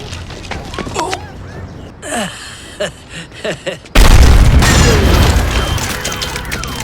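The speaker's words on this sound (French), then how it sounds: "L'explosion soudaine a fait sursauter tout le monde." Muffled voices and scattered noises are cut off by a sudden loud boom, followed by a sustained roaring rumble that slowly fades.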